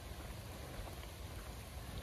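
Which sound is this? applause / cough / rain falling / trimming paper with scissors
rain falling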